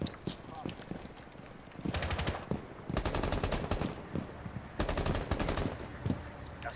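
Rapid bursts of automatic gunfire in a first-person shooter video game, several sustained volleys with short gaps between them, loud and close over background game noise.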